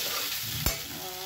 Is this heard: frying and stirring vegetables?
yes